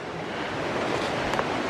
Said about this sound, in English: there are indeed some rapids here